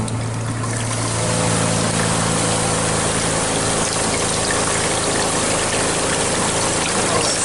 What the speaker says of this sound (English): It's weird when I turn on the water, you can hear it.